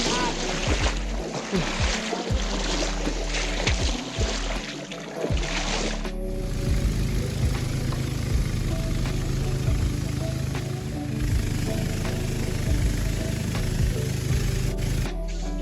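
A motor boat running on a fast-flowing river in Bandarban, with a loud continuous engine drone and rushing water throughout, clattering knocks early on, and voices talking over the noise.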